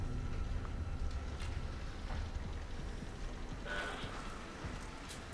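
Steady patter of dripping and running water in an enclosed area of a video game, a continuous wet hiss with scattered drops, fairly faint.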